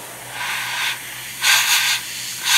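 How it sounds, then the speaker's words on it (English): Hissing bursts of spray from an airbrush coating a Tamiya 1/48 Spitfire Mk1 model kit, close and fairly loud, with a steady pass, a short gap, then two more sprays. "it's important when you're spraying upside down, to just focus on that"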